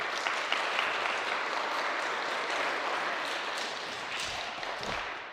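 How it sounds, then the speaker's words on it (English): Steady, dense applause from an elementary school DARE graduation audience honoring a deputy, a continuous wash of many hands clapping at even loudness throughout, tapering slightly at the end. "Another round of applause for Deputy O'Fallon."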